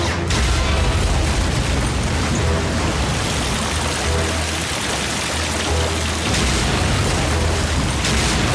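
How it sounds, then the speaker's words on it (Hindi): A big animated explosion from Transformers Prime sounds as a loud, sustained, rumbling roar of broadband noise with deep low-end booms, filling the scene for several seconds without any speech. "कितना बड़ा धमाका था।"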